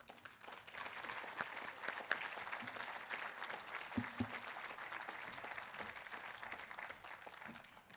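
An audience at a benefit breakfast applauds to welcome a speaker to the stage, steady clapping from many hands that holds for the full stretch at moderate volume.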